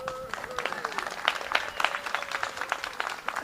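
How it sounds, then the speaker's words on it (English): An outdoor crowd claps at the ribbon cutting for an affordable housing apartment complex, a moderate patter of scattered hands under some speech-like tones. "Yeah, let's clap."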